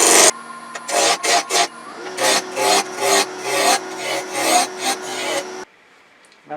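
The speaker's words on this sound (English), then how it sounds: "I'm going to use my spindle roughing gouge to get this round" A spindle roughing gouge cuts a walnut blank spinning on a wood lathe, giving about a dozen rhythmic, close, rasping bursts as the tool rides the bevel, then near silence at the end.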